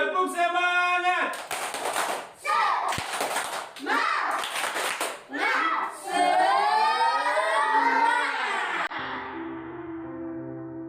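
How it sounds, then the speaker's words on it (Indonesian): Children in a group doing a patterned spirit clap, bursts of sharp hand claps in a rhythmic sequence alternating with a woman's sung and spoken lines, near and lively. "Tepuk semangat."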